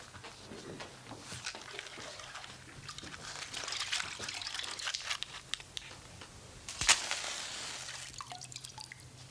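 Water sprinkled onto straw that has been set alight, heard as a soft, steady dripping and pattering with a few sharper splashes, close and fairly quiet, with no speech.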